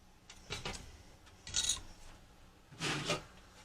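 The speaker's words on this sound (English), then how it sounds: "have a sanding board like this for just cleaning up edges, making them straight" Three separate bursts of rough rasping as a sanding board rubs back and forth against the hard plastic edge of a 1967 Plymouth GTX Hemi scale model car part, close up and quiet between strokes.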